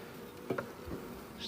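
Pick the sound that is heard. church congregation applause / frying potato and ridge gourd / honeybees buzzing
honeybees buzzing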